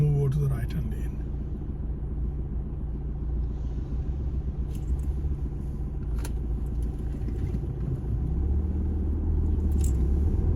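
Steady, loud road rumble and engine drone inside a car driving along Cheetham Hill Road toward the town centre, continuous throughout with a few faint clicks and knocks above it.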